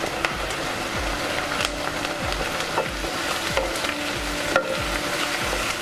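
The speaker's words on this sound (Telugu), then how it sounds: "కొంచెం ఇది కొద్దిగా నూనెలోనే వేపేసేయాలి." Ginger garlic paste frying with onions in oil, a steady sizzle broken by repeated scraping strokes of a stirring spoon against the pan, fairly close.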